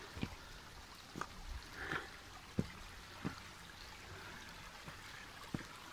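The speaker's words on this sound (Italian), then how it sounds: "Il rumore dell'acqua." Water flowing in a stream outdoors in nature, a faint, steady broadband rush with scattered soft drips and splashes over it.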